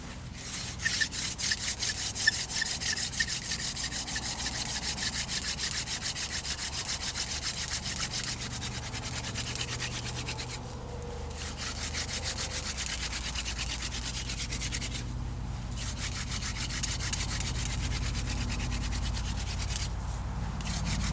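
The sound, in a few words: hand drill friction fire being made with wood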